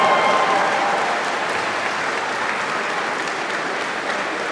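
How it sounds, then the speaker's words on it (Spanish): Steady audience applause at a church gathering after a scripture reading, a sustained even patter of many hands at moderate volume that slowly tapers. "Un aplauso, por favor."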